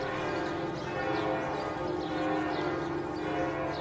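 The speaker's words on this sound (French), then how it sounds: "L'ombre monte doucement sur la façade de Notre-Dame qui fait entendre ses cloches au crépuscule." Church bells of Notre-Dame cathedral in Paris ring at dusk, a faint, sustained tolling that hangs evenly over the air without pause or voices.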